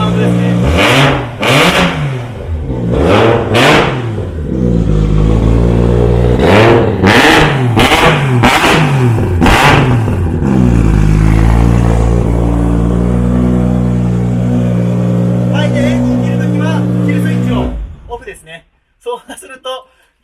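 A loud drift car engine, a Nissan R31 Skyline, revs repeatedly in sharp bursts, then settles into a rough, heavy idle before cutting off abruptly at the kill switch.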